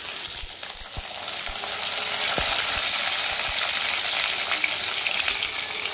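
Chopped tomato drops into a pan of lightly fried potatoes, raising a loud, steady sizzle with a few scraping stirs and knocks, close up with no talking.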